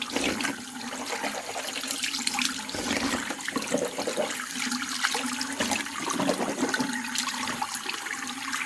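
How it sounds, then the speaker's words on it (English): Running water at a bathroom sink while someone rinses their mouth, a steady splashing flow with intermittent gurgling and swishing bursts, close by and without speech. "Let me rinse my mouth."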